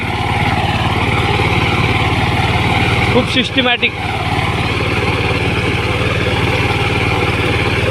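Tractor cultivating between four-foot sugarcane rows, a steady close engine drone running throughout with a brief clattering burst midway, while someone talks over it.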